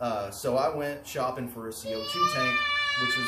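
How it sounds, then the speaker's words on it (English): Children yelling in the background of a room while someone talks close up, their high, wavering cries rising over and after his speech toward the end. "you can hear my kids yelling in the background."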